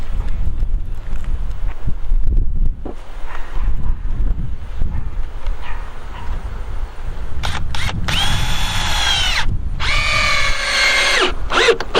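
A power drill drives 3-inch screws into the 2x4 bracing of a wooden barn owl nest box: two loud whirring bursts near the end, after handling knocks and rustling.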